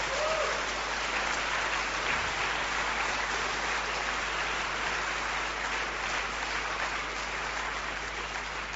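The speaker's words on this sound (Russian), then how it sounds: "Давайте аплодируем этим нашим сестрам." Sustained, dense applause from a concert audience for women performers at a church event; a steady, hissing wash of many hands clapping that continues without a break and sounds much like heavy rain.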